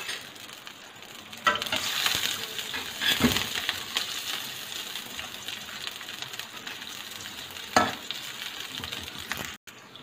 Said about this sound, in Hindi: प्याज को हमने 2 मिनट के लिए पकाना है